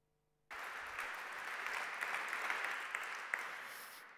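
Audience applause at an anniversary celebration breaks out suddenly after a brief silence, a dense, even wash of clapping that holds steady and stays fairly distant throughout.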